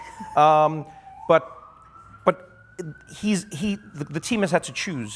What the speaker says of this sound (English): Welcome to New York, by the way, if you're hearing sirens